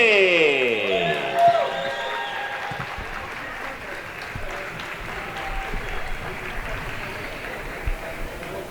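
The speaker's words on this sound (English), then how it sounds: "give them a warm round of applause, ladies and gentlemen" Audience applause at a world flying disc freestyle final fills the whole stretch with a steady, dense crowd clatter, starting just as a brief bit of music ends and staying fairly loud throughout.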